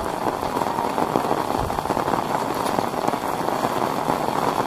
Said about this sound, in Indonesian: Dan akhirnya hujan pun turun.